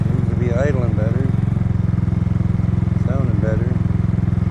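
A Kymco People scooter engine idles with a rapid, even exhaust putter, close and steady throughout, while someone talks over it in two short bursts.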